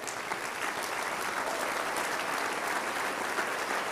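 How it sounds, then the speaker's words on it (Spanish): A church congregation breaks into sustained applause, a dense, even wash of many hands clapping at once that holds steady throughout, heard from a moderate distance. "Démosle un aplauso al Señor."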